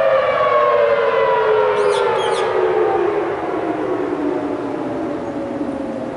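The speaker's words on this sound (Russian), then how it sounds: "это вот была проверка работоспособности сирены" The Honolulu civil defense siren sounds its monthly test on a rainy day, a loud sustained wail that slowly falls in pitch, with a couple of faint high chirps partway through.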